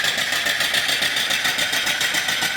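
A small live steam engine built with an antique flywheel and antique oiler runs smoothly, giving off a steady, close, rhythmic chuffing with even hissing pulses and no talking.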